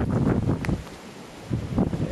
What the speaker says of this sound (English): driving wind and snow, which is what has been doing it